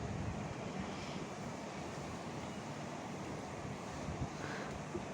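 Light wind blows across a house rooftop after a brief rain shower, making a soft, steady, even rush with no voices.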